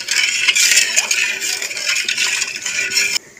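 Basanti pulao rice with salt and colouring stirred in a pot, giving a steady, dense scraping and clinking of a spoon against the vessel that runs continuously and close, then cuts off near the end.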